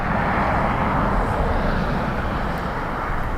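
A jet airliner on short final to the runway threshold at Dublin Airport in gusty wind, its engines a loud, steady broadband roar that holds throughout with no talk over it.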